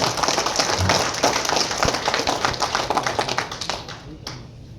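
An audience at a Tamil poetry event applauds a poet, a steady dense patter of many hands clapping close and loud, thinning slightly toward the end.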